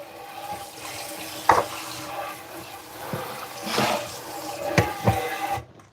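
Tap water runs into a kitchen sink as a pan is rinsed, a steady splashing stream punctuated by clanks and knocks of the pan, ending abruptly.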